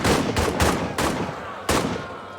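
Gunfire from the trench warfare video game All Quiet in the Trenches, several sharp, loud shots in an irregular burst over a rumbling battle background.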